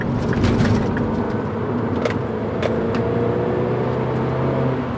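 A car drives along a dry road with a steady engine and tyre roar heard from inside, constant and fairly loud throughout, with no talking.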